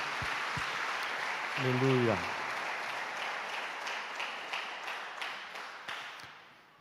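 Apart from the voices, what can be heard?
congregation applause in church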